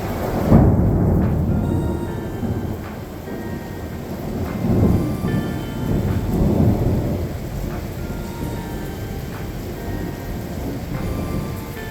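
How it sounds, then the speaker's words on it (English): A thunderstorm with heavy rain heard from a hotel balcony in Salou, steady pouring rain with rolling rumbles of thunder swelling and fading throughout. "ride out the rain, darkness and thunder and lightning from my balcony"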